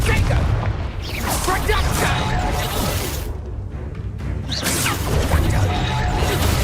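Blasts from the Confringo fire spell in the Hogwarts Legacy video game boom and crash amid combat whooshes and shattering debris, with characters' voices talking over the dense, loud battle noise.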